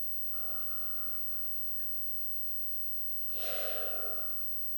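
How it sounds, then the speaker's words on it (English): A person doing a slow Qigong-style hip and breathing exercise exhales once, a deep, airy breath out heard up close in a quiet room after a faint earlier breath, with no talking. "Breathe into the hip. And then breathe out."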